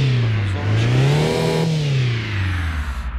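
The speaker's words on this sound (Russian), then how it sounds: "Давайте погазуем немножко." A Lexus LX450D engine revs in the City Car Driving game, a smooth, loud synthetic drone rising and falling in pitch over a few seconds and ending in pulsing idle.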